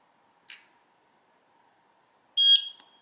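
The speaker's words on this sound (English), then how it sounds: "Press the sync button for 2 seconds until you hear a beep" A wireless outdoor security camera, Eufy Solo Cam E20, gives a short high electronic beep from its sync button, heard alone and fairly near after a faint click, with silence around it.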